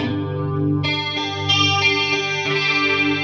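A clean electric guitar runs through a chorus effect in AmpliTube 5 for an 80s clean tone, playing a few sustained, shimmering chords that change every half second or so, clear and alone with no talking.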